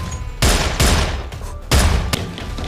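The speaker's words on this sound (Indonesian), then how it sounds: "Frank di sana juga ikut baku tembak dengan Zan." Gunfire cracks out in a film shootout with several loud, sharp bursts of shots separated by brief gaps, booming close over a continuous background.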